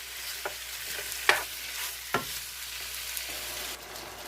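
Beef tips browning in a frying pan, a quiet steady sizzle with a few sharp clicks and taps of a utensil against the pan, no voices.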